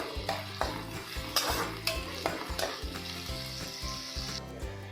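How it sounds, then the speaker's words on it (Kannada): A finely chopped large onion fries in a pan for a potato capsicum fry, with a steady sizzle broken by rhythmic scraping strokes of a spatula against the pan and no talking. "ಆನಿಯನ್ ಸಾಫ್ಟ್ ಆಗೋಕ್ಕೆ ಚೆನ್ನಾಗಿ ಬೇಯಿಸ್ಕೋಬೇಕು."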